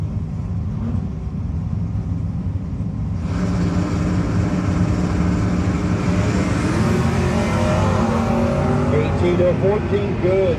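Two white Chevy drag cars at a no-box 660 shootout run side by side, engines roaring loud and steady for the full length of the pass, the pitch climbing as they pull away, with a commentator talking over them.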